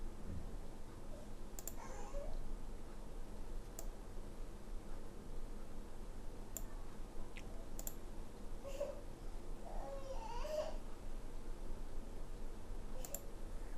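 A computer mouse gives faint, scattered clicks at irregular intervals over steady background hiss while someone works in Microsoft Publisher.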